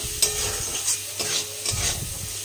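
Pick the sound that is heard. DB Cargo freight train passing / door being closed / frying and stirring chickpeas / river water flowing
frying and stirring chickpeas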